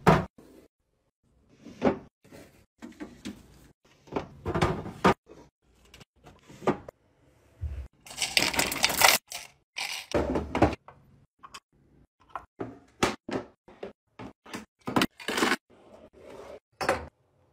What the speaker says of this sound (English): Last thing I need to do is restock my cabinets and drawers